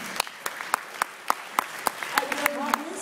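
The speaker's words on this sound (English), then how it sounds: "give them a big round of applause" Rhythmic clapping at a startup pitch event, with evenly spaced individual claps standing out over a light background of scattered applause and a faint tone near the end.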